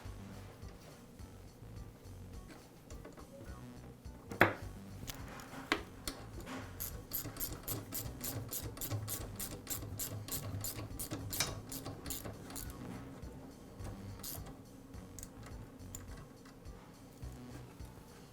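A bolt being tightened on the idler pulley of a DeWALT air compressor, heard as a steady run of quick ratcheting clicks, close and moderately loud, over a low background hum.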